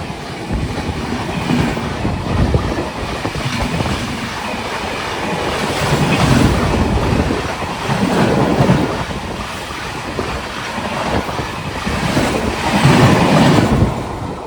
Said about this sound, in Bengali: আমাদের ট্রেন এই আলুবাবাড়ি রোড জাংশনে দাঁড়িয়ে রয়েছে আর রাজধানী এক্সপ্রেস এই ক্রস করলো